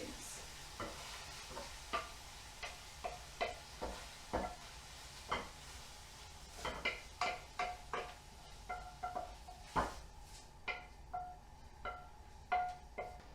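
Spoon scraping and stirring fried minced meat as it is moved from a hot pan into a bowl for a cottage pie, a steady run of short scrapes and knocks with a faint sizzle underneath, close and alone.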